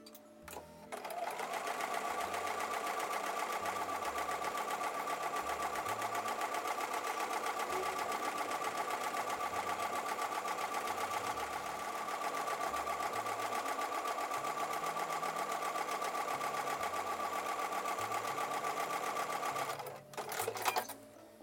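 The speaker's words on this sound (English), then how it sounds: "going to sew a 1/4 inch seam on both sides of the drawn line." A sewing machine stitches a quarter-inch seam on quilt fabric for a churn dash block, a close, steady mechanical whir with a rapid needle rhythm, running nearly unbroken for about twenty seconds before stopping.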